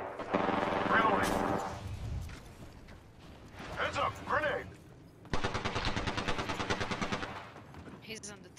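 Bursts of rapid automatic gunfire in an Apex Legends match, loud close volleys separated by short gaps, with a sustained rattling machine-gun stream near the end and brief speech mixed in.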